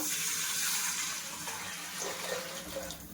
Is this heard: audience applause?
no